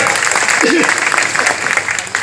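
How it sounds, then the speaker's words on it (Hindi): Audience members at an outdoor poetry gathering (kavi sammelan) in a small-town council area clap briefly and loudly, close by, with voices mixed in. "मजा आ रहा, बजाओ ताली एक बार।"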